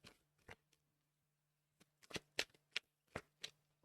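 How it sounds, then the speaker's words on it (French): Oracle cards of the flower of life deck are picked up and shuffled in a quiet room, making soft, irregular papery flicks and slaps in short clusters. "Je vais prendre quelques cartes"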